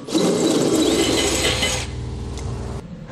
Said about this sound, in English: We're going to be using the same size hole saw.